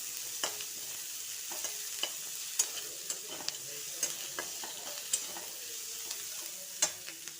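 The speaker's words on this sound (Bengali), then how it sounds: "পেঁয়াজগুলো একটুকু আমরা লাল লাল করে ভেজে নেব" Onions fry in white oil for paneer masala, a steady soft sizzle broken by repeated light clicks of a spoon stirring and scraping the pan at close range.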